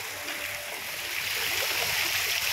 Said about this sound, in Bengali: আর এই যে জল পড়ছে